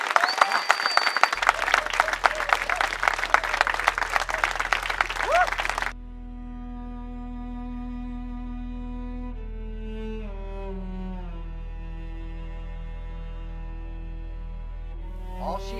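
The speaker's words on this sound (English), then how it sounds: "Give yourselves a huge round of applause." Outdoor audience at a desert water drop gathering bursts into loud, dense applause for several seconds, then it cuts off abruptly and leaves quiet sustained tones and faint background hum.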